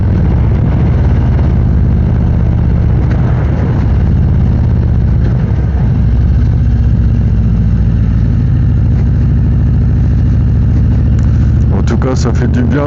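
Harley-Davidson Street Glide Special motorcycle riding around Lake Aiguebelette, its engine giving a steady, loud low rumble throughout with constant wind and road noise, and a few sharper clicks near the end.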